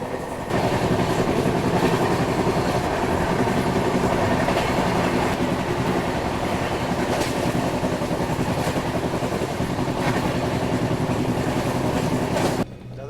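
A long-distance Indian express train rolls steadily on rails, the Vivek Express, with continuous close rumble and rhythmic clatter of wheels and carriages throughout, ending abruptly near the end.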